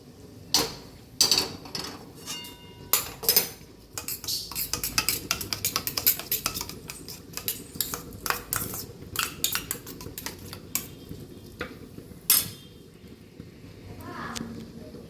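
A metal utensil scrapes and taps across a frying pan as a thin layer of oil is spread to the sides, irregular clinks and scraping strokes, fairly close, with a soft sizzle near the end.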